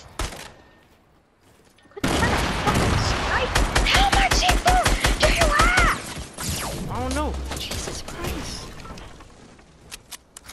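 Dense bursts of video game gunfire crackle in rapid, repeated volleys at close range, with crashing impacts mixed in and voices talking over the shooting.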